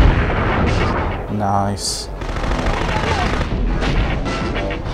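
A special mortar weapon fires in the video game Future Cop LAPD, booming and rumbling under dense game noise, with a beeping cue and a bright burst midway while a voice briefly comments.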